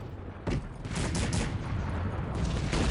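Cannons fire in a Cossacks 3 multiplayer battle, a rapid series of loud booming blasts layered into continuous rumbling gunfire, with no voices.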